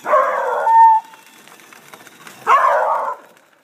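Two short, loud dog barks separated by a pause of about two seconds, with a faint whine after the first.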